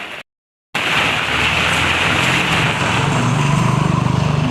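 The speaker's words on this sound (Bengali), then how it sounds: "বৃষ্টিটা খুব বাজেভাবে হচ্ছে" Heavy sudden downpour pouring outdoors, a dense steady roar of rain that cuts out for a moment near the start and then continues loud and unbroken.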